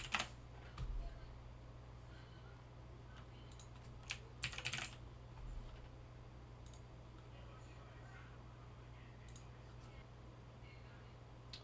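Computer keyboard typing during a Java programming session: a few scattered key clicks, fairly faint, over a steady electrical hum and low room noise.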